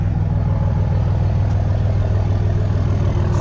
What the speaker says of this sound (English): so here's my truck